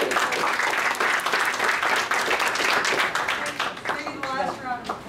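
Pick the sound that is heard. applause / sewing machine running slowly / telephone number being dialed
applause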